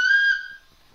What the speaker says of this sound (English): And a little whistle.